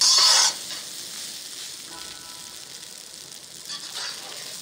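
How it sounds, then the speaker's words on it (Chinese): Garlic shrimp fried rice with chopped scallions stir-fried in a hot pan, a steady close sizzle with a brief louder burst of scraping and tossing at the start and another light stir near the end. "翻炒均匀。"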